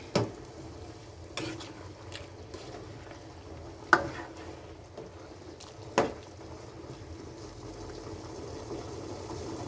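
Pork pochero with pork and beans being stirred in a pot, soft scraping and a few sharp spoon knocks against the rim at irregular intervals over a low, faint background simmer.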